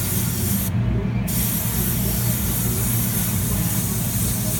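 A spray can hisses continuously and loudly at close range while paint goes onto a 1/64-scale 2002 Silverado model body, one steady unbroken spray lasting the whole stretch.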